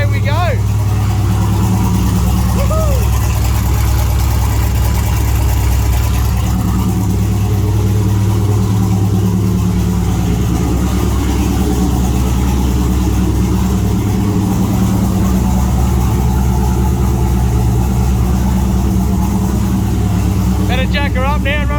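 A turbocharged LS engine in a Holden long roof idles loud and steady right after a cold start on a cool morning of about 9 degrees, a deep continuous rumble close by.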